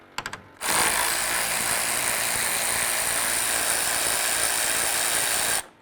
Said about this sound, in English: So now we're going to remove the bolts that hold the grill on here.